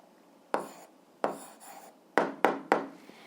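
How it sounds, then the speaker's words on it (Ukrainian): Pen strokes on paper as a maths answer is written down in an algebra lesson: five short scratchy bursts, two spaced apart and then three in quicker succession, close and fairly quiet, with no talking. "Ну а зараз записуємо відповідь, пишемо відповідь."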